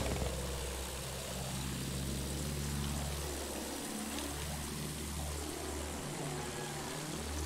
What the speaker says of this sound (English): Plane, you see it? Enemy plane.